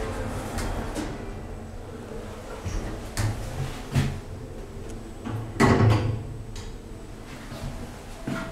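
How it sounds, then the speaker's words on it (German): An elevator door in an underground car park in Heidelberg slides shut, with a few irregular mechanical knocks and a heavier thud near the end over a steady low hum, no voices. "Tür schließt."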